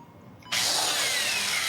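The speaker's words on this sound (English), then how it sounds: "you need to drill some holes into my skull. So you get the drill ready and go." An electric drill boring holes starts abruptly after a quiet moment and runs as a loud, continuous high-pitched whir until the end.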